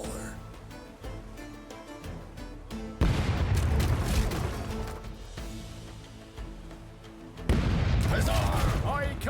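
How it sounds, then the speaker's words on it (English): Ship cannons fire in a naval battle in the pirate video game Rogue Waters, as two loud booming barrages, each swelling and rumbling on, with music and voices underneath. "Let's hear those cannons roar."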